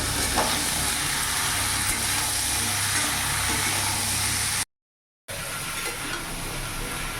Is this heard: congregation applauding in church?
no